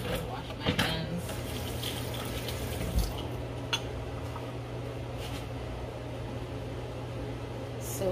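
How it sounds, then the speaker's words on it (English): Hands being washed under a running kitchen tap, a steady faint stream of water with a low background hum and a few soft clatters, no talking. "Wash my hands."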